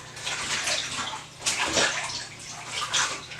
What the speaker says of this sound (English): using my hand to like push it under the water that has the product in it, the Vivishine